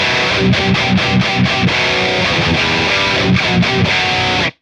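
Electric guitar run through two stacked distortion drives plays tight, palm-muted chugs in rhythmic bursts with short gaps, loud and upfront, ending abruptly in silence.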